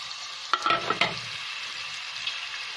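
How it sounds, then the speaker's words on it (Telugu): Two large thinly sliced onions fry in hot oil for a mutton gravy curry, a steady close sizzle with a few brief stirring scrapes near the start, then continuous frying alone. "ఇవి గోల్డెన్ బ్రౌన్ వచ్చే వరకు వేడి చేసుకో వేగించుకోవాలండి"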